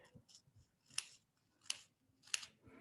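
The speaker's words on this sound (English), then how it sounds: "you just turn it around and then cut in between those cuts" Scissors snip through paper in three crisp, evenly spaced cuts, close and clear, while light handling rustles fill the pauses between them.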